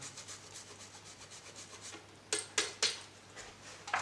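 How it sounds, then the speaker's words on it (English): A microplane grates parmesan in quick rasping scrapes, a few short strokes clustered in the latter half, close and fairly quiet with no talk. "My microplane again, okay, I used yesterday. And basically put in a load of parmesan"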